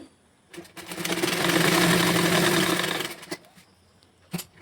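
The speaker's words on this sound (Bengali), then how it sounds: "এখানে আমি ডবল সেলাই দিয়ে নিচ্ছি" A sewing machine double-stitches a dress seam in one close, steady run of about two seconds, with quieter handling clicks before and after.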